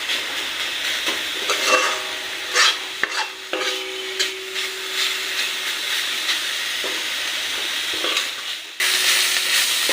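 Spices, onion, ginger, garlic and bay leaf sizzle steadily in hot oil for dal tempering, a continuous close crackling hiss with occasional scraping stirs and brief clinks.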